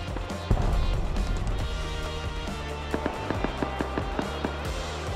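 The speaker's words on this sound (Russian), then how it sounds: "И в стороне китайцев я услышал взрывы, куда я сразу же и отправился." Muffled explosions and bangs from a raid in a survival video game, a steady rumbling barrage with a sharp onset, then regular thuds and pops at a moderate distance.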